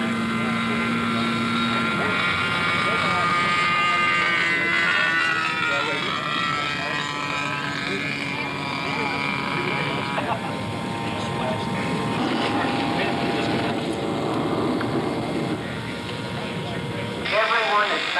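A radio-controlled scale model aircraft buzzes through the air at a scale masters contest, its propeller engine droning steadily and shifting pitch as it passes, with people talking under it throughout.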